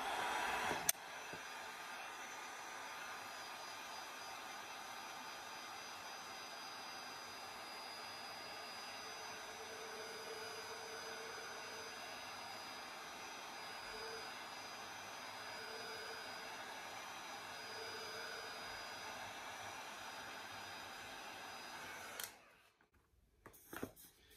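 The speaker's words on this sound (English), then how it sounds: "what I'm gonna do is use my heat gun." A heat gun blows hot air over plaid vinyl strips in a steady, continuous broadband roar that holds for about twenty-two seconds, then cuts off abruptly near the end.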